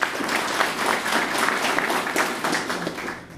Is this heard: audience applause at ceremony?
yes